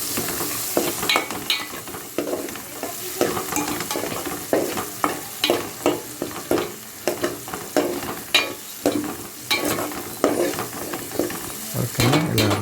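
Ginger garlic paste fries in a pan for a Telugu coconut prawn curry, the spoon scraping through it in a steady run of strokes over a continuous sizzle, close and fairly loud, with no talk.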